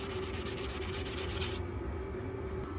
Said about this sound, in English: I started this with a 240 grit sandpaper, and then I moved on to a 400